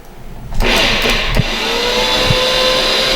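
An electric mixer churns chocolate chip and oatmeal cookie dough as dry ingredients go in, starting after a quiet moment and holding a loud, steady motor whir with a few bumps and knocks.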